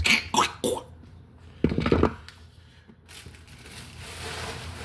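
Crisp breadcrumbs in a Caesar salad crunch in a few short close bites, separated by quiet pauses, with a softer rustling crunch toward the end.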